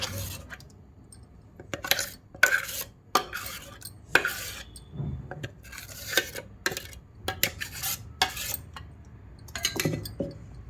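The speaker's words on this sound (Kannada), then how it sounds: "ಮಸಾಲೆ ಆ್ಯಡ್ ಮಾಡಿ ಚೆನ್ನಾಗಿ ಮಿಕ್ಸ್ ಮಾಡ್ಕೋಬೇಕು" A spoon stirs ground masala into a peanut mixture for North Karnataka stuffed brinjal, close irregular scrapes and metallic clinks against the vessel repeating in bursts throughout.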